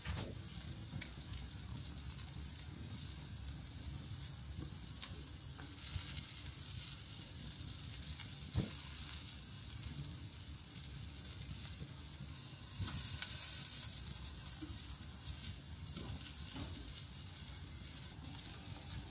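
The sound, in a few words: meat sizzling on a barbecue grill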